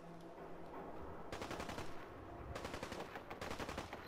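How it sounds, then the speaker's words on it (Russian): Automatic weapon fire in Fallout 4 comes in rapid staccato bursts, one burst then a pause, followed by longer sustained strings of shots at moderate distance. "с применением автоматического оружия боевые действия идут"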